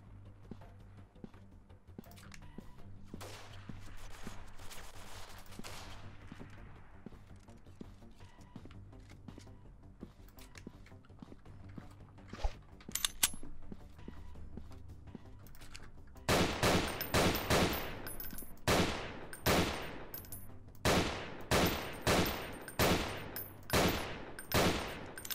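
Pistol gunfire in the Freeman: Guerrilla Warfare video game: after a stretch of low rumbling and scattered distant shots, a run of about a dozen loud, sharp single reports cracks out at an irregular, steady pace.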